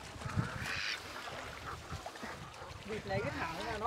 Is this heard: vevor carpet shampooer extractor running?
no